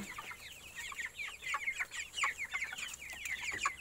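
A flock of farm chicks about 45 days old cheeps and clucks continuously in quick overlapping chirps, moderately close and fairly soft.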